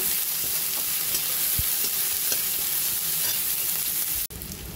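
Chopped garlic, capsicum, onion and a green chilli fry in hot oil, making a loud, constant sizzle with stirring scrapes throughout, which cuts off abruptly just before the end.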